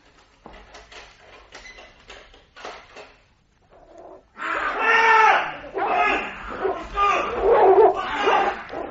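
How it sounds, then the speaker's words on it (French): A dog barks and yelps frantically, first in scattered quieter bursts, then loud and close with snarling, agitated cries. "Le chien est en train de le dévorer."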